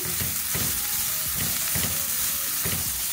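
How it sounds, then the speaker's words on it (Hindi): Grated carrot and shredded cabbage fry in a pan for vegetable kababs, a loud, continuous sizzling hiss broken by regular scraping stirs about every half second. "बंद गोभी शामिल करेंगे, इसको हल्का सा फ्राई करेंगे"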